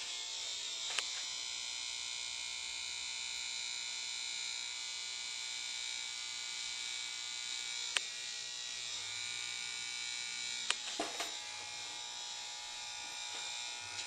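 Electric hair clippers run in a continuous, steady high-pitched buzz throughout, close and fairly loud, broken only by a few brief clicks and knocks as they are handled.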